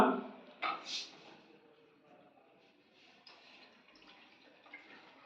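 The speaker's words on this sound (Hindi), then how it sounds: "चलो अब एक बार पानी डालते हैं पहले पूरा" Water is poured into a measuring container: a brief splash at the start, then a quieter trickle and light knocks as the pouring continues.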